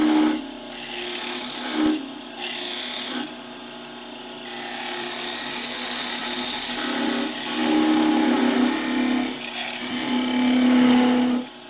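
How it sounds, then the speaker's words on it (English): Sandpaper rasps against a yew wood yo-yo spinning on a woodturning lathe, a steady close scratchy rubbing that comes in several passes with short pauses between them. "we'll do some sanding as we go."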